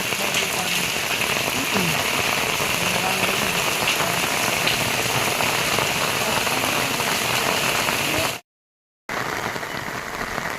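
Steady, heavy rain pours down in a dense continuous hiss, briefly cutting to silence near the end before resuming.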